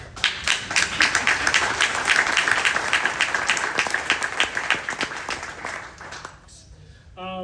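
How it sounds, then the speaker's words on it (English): Audience applause at a political speaking event, a dense burst of clapping lasting about six seconds before fading out, with a brief voice near the end. "it's funny that I should get a clap for saying something that's just so obvious"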